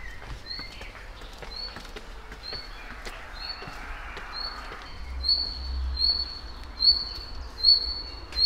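An outdoor bird calls with a series of short, thin, high chirps repeated every second or so over a faint low rumble, fairly near.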